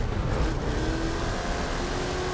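A car engine in the racing game Forza Horizon 5 holds a steady, loud, continuous drone with no pauses and no voices.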